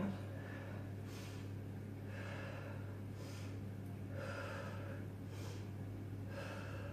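Quiet, steady breaths during a Pilates exercise, soft inhales and exhales repeating about once a second over a low constant hum.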